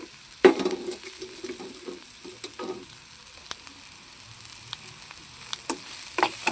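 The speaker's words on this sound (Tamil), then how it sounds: "அதையும் வந்து இப்படி கிண்டி எடுத்துக்கலாம்" Drumstick leaves sizzle in a pan as a spatula stirs them, a low steady frying hiss broken by occasional sharp scrapes and clinks against the pan, close and fairly quiet.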